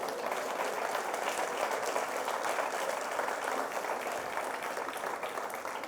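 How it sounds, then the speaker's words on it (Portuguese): A church congregation applauds during a sermon, a sustained wash of many hands clapping that carries evenly through the whole stretch without pause. "Você pode dar um aplauso a esse Jesus?"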